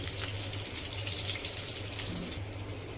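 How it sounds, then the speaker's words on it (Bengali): Slit pointed gourds (potol) shallow-frying in a pan, a constant fine crackling sizzle with a steady hiss, close and moderately quiet throughout. "পটলগুলো কিন্তু লাল লাল করে ভেজে নিচ্ছি।"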